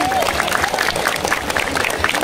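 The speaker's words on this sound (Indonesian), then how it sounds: "beri kita tepuk tangan kepada mereka" A crowd at an Indonesian political rally for a candidate claps for the parties present, a dense, lively burst of applause with voices mixed in.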